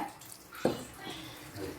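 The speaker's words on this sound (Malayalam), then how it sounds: "നല്ലതുപോലെ പുരട്ടിയതിന് ശേഷം കുറച്ച് വെള്ളം ഒഴിക്കുക ഒത്തിരി വെള്ളം വേണ്ട" A little water is poured into sardine masala in a cooking pot, a brief splash and trickle that is soft and close against a quiet kitchen background.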